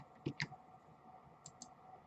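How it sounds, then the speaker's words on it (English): Keyboard keys struck a few times in quick succession, sharp close clicks in two pairs with a quiet room hum between them. "Hitting my keyboard too many times."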